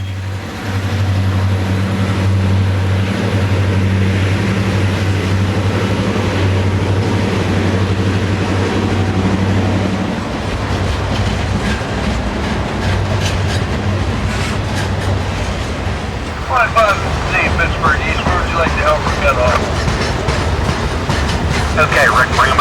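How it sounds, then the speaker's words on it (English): A trash train rolls past in Pennsylvania with a steady low rumble that gives way to clattering wheels and squeals on the rails. The noise is loud and continuous, and a voice talks over part of it. "This unusual train is a trash train heading to an undisclosed western location."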